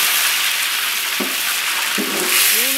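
Curry leaves dropped into hot oil with mustard seeds and fennel, tempering for a stingray dry fish gravy, give a loud, close, steady crackling sizzle with a couple of brief sputtering pops.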